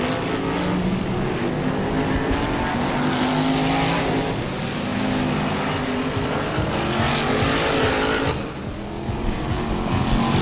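BriSCA Formula 1 stock cars race around the oval at Northampton, their engines roaring loudly in a dense, overlapping drone that swells and fades as the cars pass, with a brief dip near the end.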